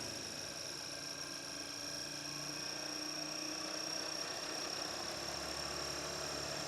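On a test bench, an electric motor drives a generator or alternator with a steady, low, continuous hum and faint whine, quiet and even throughout with no talk.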